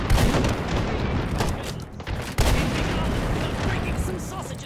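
Dense, continuous gunfire and explosions in the VR shooter Hot Dogs, Horseshoes & Hand Grenades during a Meat Fortress round, loud and close, with a sharp burst near the middle and a person talking over it.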